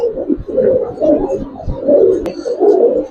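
Giribaz pigeons coo in repeated low, throaty pulses close by, a continuous soft burbling with brief pauses between calls.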